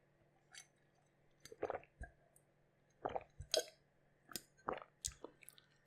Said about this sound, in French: Je vais me boire un petit verre d'eau. Une petite gorgée plutôt